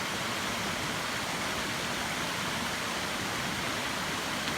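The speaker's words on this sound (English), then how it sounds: "There's a little bit of a waterfall right here. It's a little noisy." Small waterfall in an Adirondack forest stream in the Hoffman Notch Wilderness, a steady broadband rush of falling water, close and continuous with no voices.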